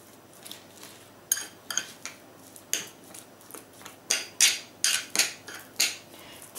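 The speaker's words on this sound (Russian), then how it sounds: "Смешиваем это все с рисовой мукой." A spoon stirs a paste with rice flour in a bowl for a homemade face mask, giving a run of quiet, sharp clinks and scrapes that grow louder and more frequent toward the end, with no voices.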